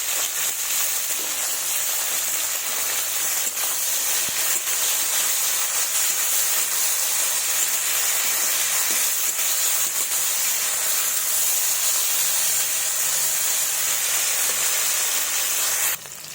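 Vegetables seasoned with salt and turmeric fry in a pan for khichuri. A steady, even hissing sizzle runs unbroken for the whole stretch at moderate loudness, with no talking.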